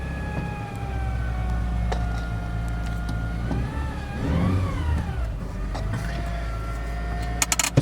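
A 2008 Honda Civic Hybrid engine revving at about 2,000 RPM with a transmission fault that barely moves the car, a steady droning whine that rises and dips midway, with faint clicks near the end.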